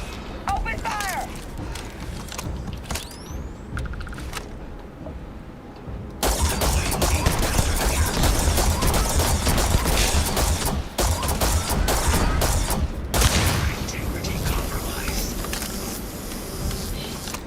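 Sustained gunfire and mechanical clatter from the video game Starfield start quietly, then grow into a dense, loud barrage from the midpoint onward, with a voice speaking over the shooting.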